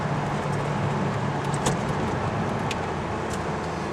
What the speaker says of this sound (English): I'm just going to tap the gas and then hit downshift